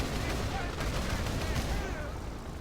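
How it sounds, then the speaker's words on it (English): Rolling thermobaric artillery barrage in the real-time strategy game Rise of the Reds, a dense continuous roar of overlapping blasts and crackling detonations held at steady loudness for a few seconds. "Thermobaric barrage by M59."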